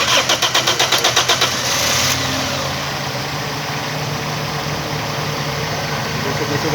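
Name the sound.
Toyota Corolla engine starting and idling with misfire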